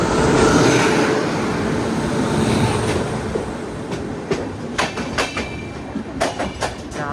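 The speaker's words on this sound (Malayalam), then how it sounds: "ഗുജറാത്തിലെ രാജ്കോട്ടിൽ നിന്ന് കോയമ്പത്തൂർക്ക് വന്നൊരു എക്സ്പ്രസ്" The Rajkot–Coimbatore Express runs past at Kalyan junction, a loud steady rumble of wagons that gives way to rhythmic clickety-clack wheel beats over rail joints, close and continuous.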